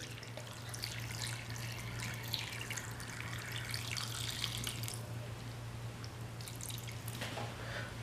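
Water is poured into a mutton karahi as it cooks, a steady trickling and splashing pour with scattered drips, close and fairly quiet, lasting several seconds over a constant low hum.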